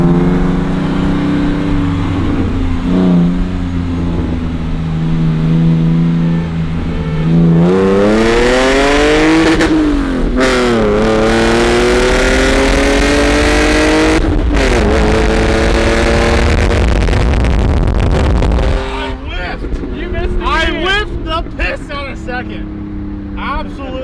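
A BMW 128i with a manual gearbox accelerates hard. The loud engine note rises and holds, dips at the shifts, then climbs again before dropping away, and people talk and exclaim over it.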